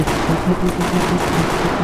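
Battlefield 4 gunfire in rapid automatic bursts, dense and loud over a steady noisy backdrop of battle.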